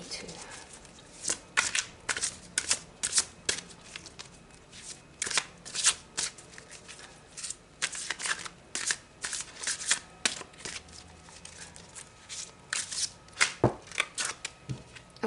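A tarot deck is shuffled by hand in rapid, irregular bursts of crisp riffling and snapping, with brief pauses between bursts. The cards sound close and clear, and speech is faint or absent.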